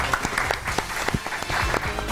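Studio audience applause for a guest named Salman during a live Ramadan iftar entertainment broadcast, a short burst of dense clapping with a few sharper claps standing out.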